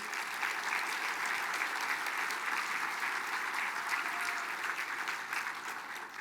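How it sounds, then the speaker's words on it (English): Sustained applause from the audience for historian Bruce White at the Mille Lacs Band of Ojibwe State of the Band event, a steady dense clapping that holds evenly loud throughout. "Can we give Bruce a round of applause, please?"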